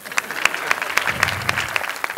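Audience applause at a Mr. & Miss Beauty 2008 club show at Creta Envy Club: a steady patter of many hands clapping, with sharper claps rising through it, close and fairly loud, with no voices.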